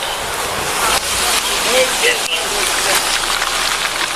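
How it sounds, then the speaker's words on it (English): Rain falls steadily outdoors at night with a broad hiss, while people talk over it. "I just don't want you standing in the rain out here"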